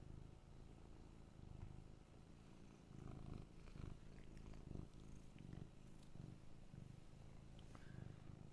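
A cat purrs close and soft, a low steady rumble pulsing in slow breathing cycles, with no talk.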